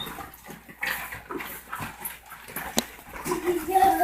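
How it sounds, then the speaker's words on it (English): Six male pit bulls living together as a pack, with scattered close whines, snuffles and small vocal sounds amid faint background voices and movement. "6 male pit bulls"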